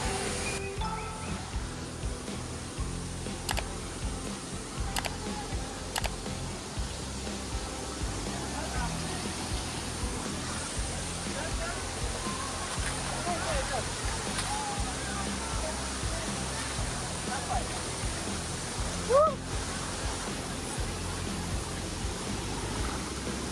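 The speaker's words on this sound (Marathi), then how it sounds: "आणि समोर आला धनगर वॉटरफॉल," The Dhangar waterfall near Badlapur sends out a steady, close, broadband roar of falling water that never lets up, with spray and wind mixed into the constant rush.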